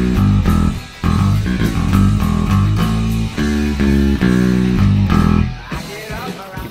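Bass riff locked in unison with distorted guitars, a loud, steady rock groove with full band, drums and repeating low-pitched riff figures throughout, no talking.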